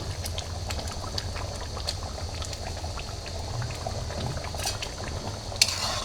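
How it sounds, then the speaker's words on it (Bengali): Bean dal bubbles in a pot on the stove, a steady close simmering burble with light liquid gurgles and a brief metallic clink near the end. "সিমের বিষের ডালটা ফুটে আসছে"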